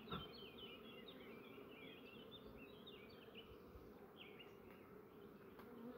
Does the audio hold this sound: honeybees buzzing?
yes